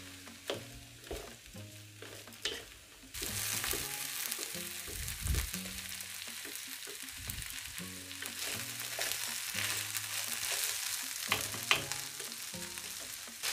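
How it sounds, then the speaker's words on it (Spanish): Rice sautés in a pan with cod and cauliflower, a soft sizzle under irregular stirring scrapes and clicks, quieter for the first few seconds and then fuller and steadier once the frying picks up. "Y ahora lo vamos a sofreír todo el conjunto durante 2 minutos."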